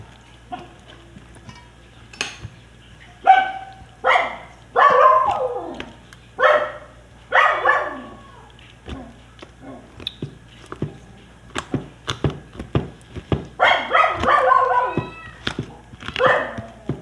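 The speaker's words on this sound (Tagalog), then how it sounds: "iyon namang aso namin, hindi na nga nakisama, wala namang tao, pero tahol ng tahol" A household dog barks repeatedly and loudly near a yard where chickens are being doused with marinade, the sharp barks coming in irregular bursts with short pauses and no talking over them.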